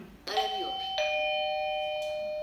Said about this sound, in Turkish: Şimdi zil butonuna bastım. Monitör arıyorum.